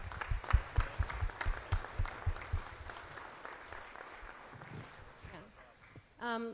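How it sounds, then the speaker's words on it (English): Applause at a joint public meeting of a county board of supervisors and a city council, a few scattered, fairly close claps that fade into room noise, followed by a voice speaking at the end. "Let's give a big round of applause"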